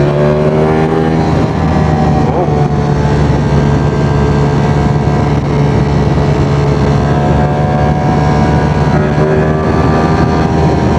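A Ducati Streetfighter V4 motorcycle ridden in race mode, a loud, continuous engine roar with a droning tone, heavy wind rush and shifting revs throughout.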